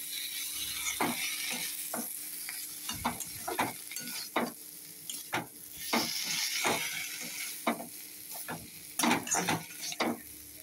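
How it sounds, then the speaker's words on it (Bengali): Potatoes and bitter gourd frying in a pan, stirred with repeated scraping and clacking strokes in an uneven rhythm over a low, constant sizzle, fairly quiet and close, with no voices. "আলু আর উচ্ছেটা দিয়ে একটু নাড়াচাড়া করে অল্প সামান্য জল দেবো।"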